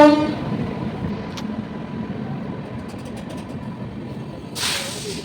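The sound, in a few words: train arriving at station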